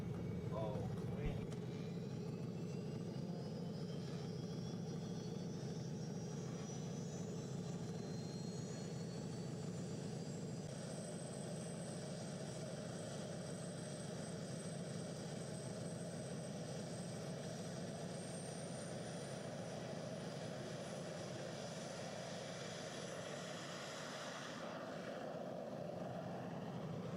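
A turbine-powered race car at El Mirage whines steadily from a distance, with a rising high-pitched tone over a broad rushing roar across the dry lake bed. People talk throughout.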